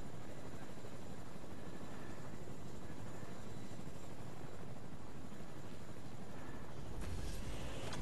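A helicopter in Fortnite gives off a continuous heavy rotor and engine roar, loud and steady throughout, with a brief surge near the end.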